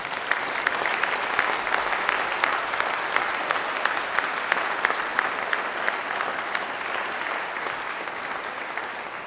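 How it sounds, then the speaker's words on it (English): A large audience applauds steadily at a State of the State address, with dense, continuous clapping that holds at an even level throughout. "You can clap for him."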